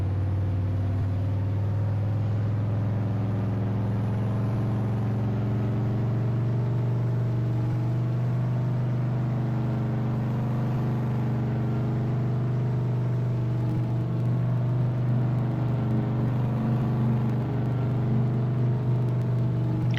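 Farm vehicle in Farming Simulator 22 driving along with a continuous low, rumbling engine drone and a steady whirring hum, loud and unbroken throughout with only slight shifts in pitch.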